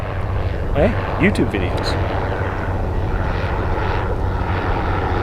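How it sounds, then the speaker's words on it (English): An airplane drones overhead in a steady low rumble that persists throughout, while people talk over it and a few bird chirps cut through. "wait till the plane passes"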